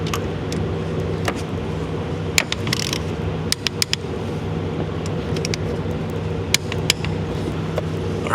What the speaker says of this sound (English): I'll torque this to 25 foot-pounds.